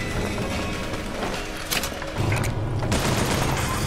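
Gunfire in the video game BioShock Infinite comes as dense, loud bursts of rapid shots and impacts over steady background game noise.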